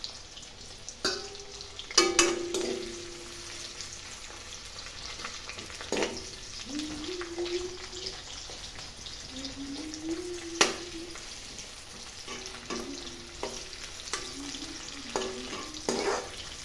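Bay leaves frying in hot oil give a soft, continuous sizzle, with occasional clinks and scrapes of stirring and faint tonal squeaks scattered across the quiet kitchen.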